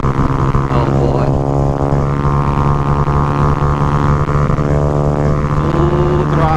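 A Honda Grom motorcycle engine runs at full throttle on the highway, a loud, steady buzzing drone that holds throughout under strong wind noise.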